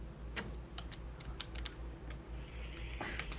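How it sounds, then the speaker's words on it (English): Typing on a mechanical keyboard, a faint, irregular run of clicky keystrokes at moderate distance over a low background hum, ending in a slightly denser flurry of taps. "we can totally hear you typing on your mechanical keyboard"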